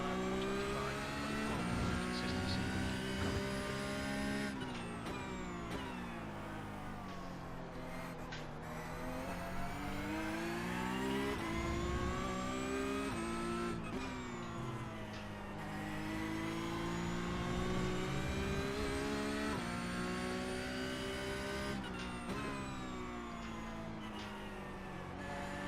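A Porsche Cup race car drives Brands Hatch in the iRacing sim, its engine loud and close as it revs through the gears, pitch climbing and falling across repeated shifts and braking, with occasional tire squeal and no speech.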